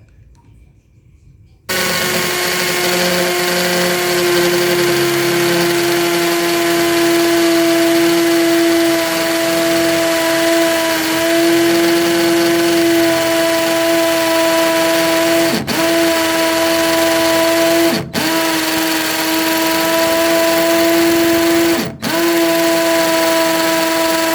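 A cordless IMAX IMCD-20GT hammer drill starts abruptly and runs loudly in hammer mode for a long stretch with a steady whine, pausing for a split second three times near the end.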